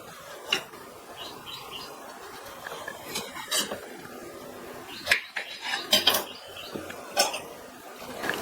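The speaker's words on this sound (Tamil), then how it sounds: "இதனுடைய மேல் தோலை லைட்டா சீவிட்டு கட் பண்ணிக்கலாம்." A bottle gourd is peeled and cut on a kitchen surface, giving scattered faint scraping and sharp knife taps spaced irregularly, with a few louder clicks of the blade striking the board.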